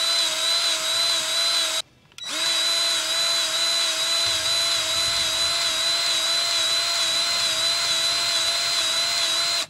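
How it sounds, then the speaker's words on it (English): An electric grease gun whirs with a steady high-pitched motor whine, pausing briefly after about two seconds before starting again and running continuously, close and loud, with no talk. "the joy of this electric grease gun is you can choose your pump"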